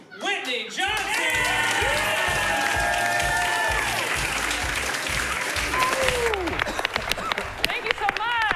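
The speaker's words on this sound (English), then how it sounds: "Give a big round of applause to Whitney Johnson!" Loud applause and cheering from an audience at an improvisational comedy show, with dense sustained clapping, whoops and voices over it, running steadily for several seconds.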